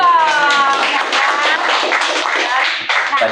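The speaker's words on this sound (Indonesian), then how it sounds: "Boleh tepuk tangan dulu dong." A studio audience at an Indonesian talk show claps and cheers, a loud, continuous burst with excited voices mixed through it from start to finish.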